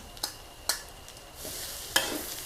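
Rice with bacon is stir-fried in a pan with a soft sizzle, several sharp scrapes of the spatula spaced through the sound, close by and without talk.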